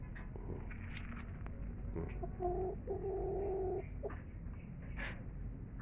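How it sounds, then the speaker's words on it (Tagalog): Soft clucking and low cooing calls from a young Brahma chicken, a few short bursts over faint background hiss, fairly quiet and close. "Yung brahma naming manok."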